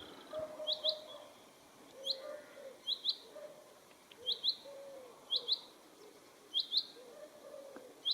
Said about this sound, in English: Nice chaffinch singing away.